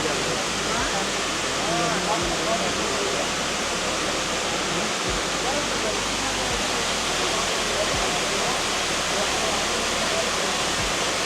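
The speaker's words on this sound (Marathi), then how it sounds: "बाराही महिने हा धबधबा चालू असतो." Abbey Falls in Coorg, a year-round waterfall, pours with a dense, steady roar of rushing water that stays constant and loud the whole time.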